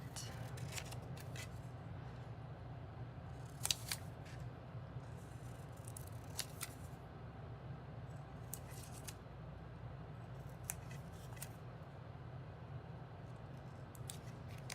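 Scissors snip through paper while making small file folders, a few sharp cuts spaced apart over a quiet room hum, close and fairly soft.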